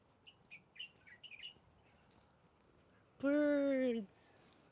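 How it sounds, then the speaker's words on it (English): Birds chirping at Yehliu Geopark on Taiwan's coast: faint scattered chirps early on, then one loud, close, harmonic call lasting under a second near the end, with a brief high note after it. "Birds!"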